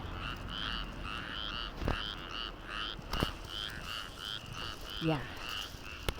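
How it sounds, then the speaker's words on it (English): A chorus of frogs in rice paddies in Japan croaks in steady, repeating bursts from the distance, with a few nearby knocks and a brief spoken word. "Those are frogs."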